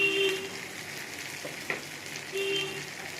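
Chicken and potatoes fry in a pan as turmeric and chili powder are added, making a steady low sizzle with a faint clink midway.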